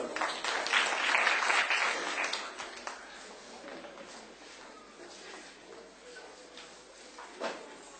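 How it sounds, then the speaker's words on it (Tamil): Applause from an audience at a debate event swells briefly and loudly, then thins to scattered claps and murmuring voices, with a sharp clap or knock near the end. "எங்களுடைய கரகோஷம்"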